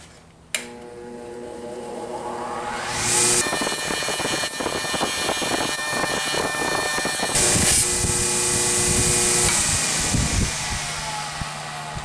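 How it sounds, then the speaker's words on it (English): A slow-speed 1725 RPM shaft grinder with wide wheels runs steadily, a loud sustained whir with a motor hum, joined by rougher grinding as a Stanley T-bevel is pressed against the wheel, then easing off, with no voices. "shaft grinder, slow speed, 1725 RPM. It's a very pleasant machine to run."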